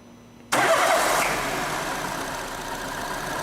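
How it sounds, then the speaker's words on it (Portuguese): A car engine cranks and catches suddenly, then settles into a steady, loud idle that keeps running. "vou dar partida no motor"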